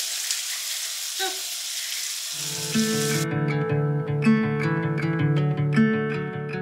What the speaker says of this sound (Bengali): ভাত ভাজাতে কয়েকটা কড়াইশুঁটিও দিয়ে দিচ্ছি।